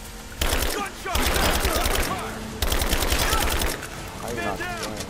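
Rapid automatic gunfire from the video game Rise of the Tomb Raider rattles in long loud bursts, one after another, with echoing impacts and game effects trailing off at the end.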